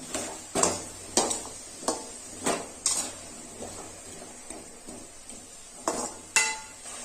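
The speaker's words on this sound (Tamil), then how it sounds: "அடிக்கடி கிண்டி விடணும்." Gooseberries frying in oil in a pan are stirred with a utensil, giving repeated scraping clinks at an irregular rhythm over a soft, steady sizzle, fairly close and moderately loud, with no voices.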